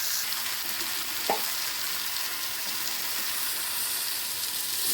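Brinjal stir-fry cooking in castor oil in a pan, a steady broadband sizzle and frying hiss throughout with a single brief scrape of stirring near the start, close and moderately loud.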